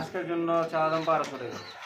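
Pigeons coo at a pigeon market, a close run of soft throaty warbling calls repeating in quick succession over low background chatter.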